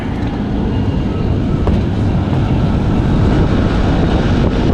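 An old Trane Voyager rooftop air conditioning unit, running hot, drones with a loud, steady broadband rumble and airflow noise, with some wind buffeting and no talking.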